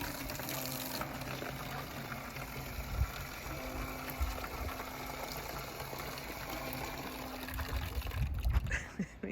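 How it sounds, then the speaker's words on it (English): Water runs steadily into a campervan's water tank for several seconds, a continuous rushing pour with a louder gurgle near the end. "Stu tops up the water once he's worked out how to do it"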